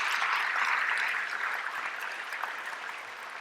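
Audience applause at a Veterans Day ceremony, a dense wash of clapping that starts strong and gradually thins and softens over a few seconds.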